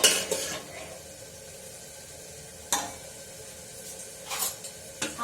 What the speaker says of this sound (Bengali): ভাজা ভাজা হচ্ছে। এই যে ডাল দেখুন